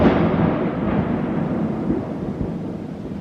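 A deep rolling rumble of thunder from a thunderstorm fills the air, loud at first and slowly fading, a continuous low roar with no voices.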